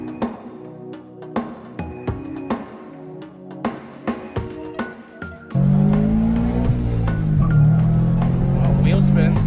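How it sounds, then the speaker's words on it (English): A Scion FR-S spinning its wheels, starting with scattered clicks and short bursts, then a loud sustained burst of engine roar and squealing tires that holds to the end. "Wheel spin."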